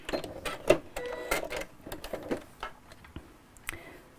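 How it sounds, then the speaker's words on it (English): A sewing machine works a decorative stitch on fabric with a busy, uneven mechanical clatter of quick clicks and whirring bursts, close and moderately loud, with no talking. "I'll just stitch it out like I always would do when I'm using any kind of decorative stitch on a piece of fabric"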